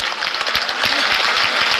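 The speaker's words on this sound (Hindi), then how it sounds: "एक बार मोदी जी के लिए एक बार तालियां साथियों" Crowd applause for Modi at a Rajasthan government employees' rally in Jaipur, a dense, steady wash of many hands clapping at constant loudness with no clear talk.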